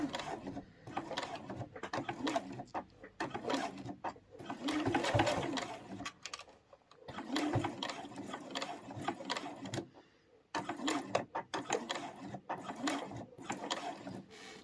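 A sewing machine stitches a lanyard, its rapid, even mechanical whirring running close and steady in long bursts, broken by brief pauses.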